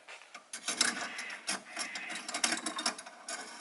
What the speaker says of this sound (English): I'm just going to put my hose clamps on first.